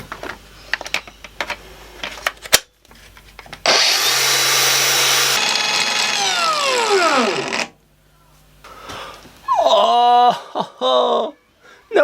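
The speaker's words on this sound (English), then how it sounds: "I'm going to chuck the fake battery back in the angle grinder and see how long it takes" A cordless angle grinder running on a fake battery whines steadily for a few seconds and then winds down, with tapping and handling noises before and a voice talking afterward.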